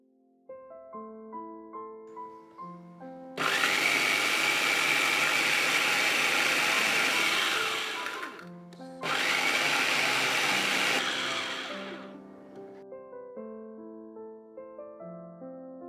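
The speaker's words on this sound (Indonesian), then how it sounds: "gula pasirnya ini bisa kamu blender" Electric blender grinding granulated sugar for brownies, a loud steady whirring roar that runs for about five seconds, stops briefly, then roars again before winding down. Soft background music plays before and after the grinding.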